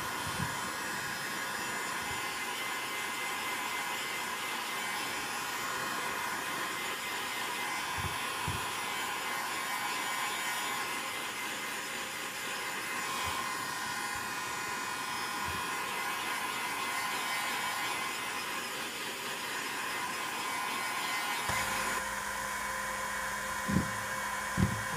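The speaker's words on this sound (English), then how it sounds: "sometimes I have to angle the heat gun where I put more heat down at the base instead of at the neck" A heat gun blows hot air onto the base of a plastic pipe while forming an aero port, producing a steady, close airy roar that runs unbroken for about 25 seconds and shifts in tone near the end.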